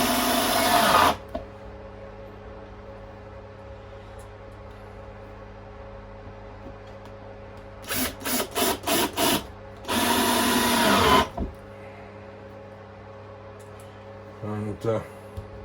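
Power drill driving screws into a wooden baseboard, several short whirring bursts separated by quiet pauses, with a longer burst near the middle and a brief one near the end.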